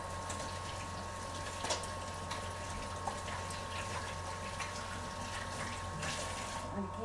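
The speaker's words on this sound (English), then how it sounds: "So I'm going to wash my hands real quick." Water runs steadily from a kitchen tap during handwashing while pie crust is being made, a faint continuous hiss and splash with a few small clinks and no talking.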